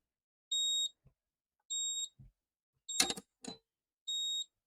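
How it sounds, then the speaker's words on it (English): A fingerprint-scanner safe standing open gives out repeated electronic beeps, three evenly spaced high tones about a second apart, interrupted by a few sharp clicks and knocks of handling, close and clear against silence. "Beeps while it's open."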